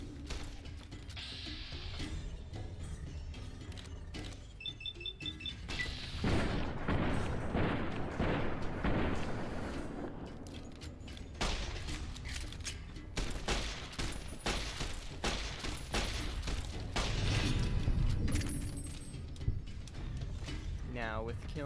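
Gunfire in Fallout New Vegas, playing as the Arizona Ranger against Powder Gangers: dense, loud bursts of shots and mechanical clatter run throughout, layered with game effects and a voice talking over it.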